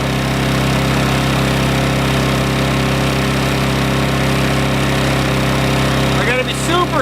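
A small engine idles loudly and close, a steady low hum with a slight waver as its choke is adjusted, and someone speaks briefly over it near the end.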